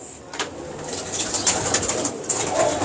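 Prized breeding pigeons coo close by, soft repeated throaty calls over a light background hum.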